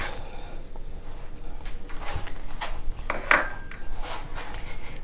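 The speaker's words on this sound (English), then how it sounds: "And then we just mix it up." A utensil scrapes and clinks against a bowl while seasonings and garlic powder are mixed into chicken, soft stirring with a few sharper metallic taps, close and fairly quiet.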